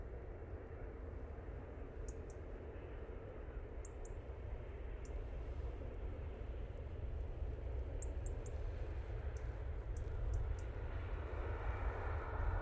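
A Cathay Pacific airliner arriving from Hong Kong on short final to runway 05L at Manchester Airport, a steady broadband engine roar that slowly builds in loudness throughout, with faint high clicks scattered on top and no talking.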